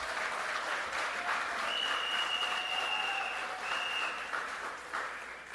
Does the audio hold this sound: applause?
yes